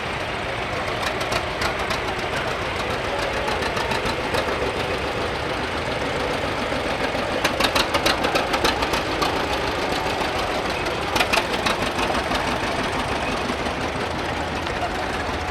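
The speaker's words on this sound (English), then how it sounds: "He's got his throttle way down so that it will just purr along." A Case tractor engine idles at low throttle during a cotton gin parade, a steady low rumbling chug that goes on without pause, with a few brief rattling bursts in the middle and near the end.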